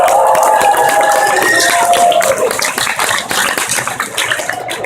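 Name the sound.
audience applause for convention staff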